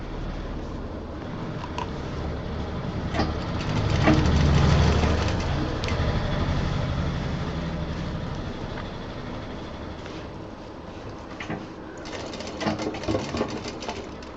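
A sewing machine stitches a DIY college bag in a fast steady whir, running in long bursts close up and briefly pausing, with faint handling clicks.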